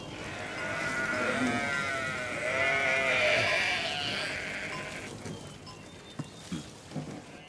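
Sheep bleat in a pastoral scene, several drawn-out, wavering cries overlapping for about five seconds, fairly close, followed by quieter rustles and a few soft knocks as the calls fade.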